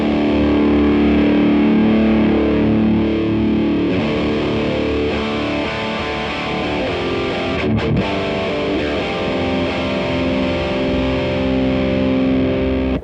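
Heavily distorted electric guitar chords ring out continuously through an amp set near the distortion threshold, thick and loud, with a brief gap and pick scrape near the middle.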